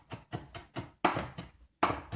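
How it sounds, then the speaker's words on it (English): A knife chops ingredients for homemade butter on a cutting board, producing a run of close, soft thuds in a steady rhythm followed by two sharper, louder strikes. "chopping and chopping"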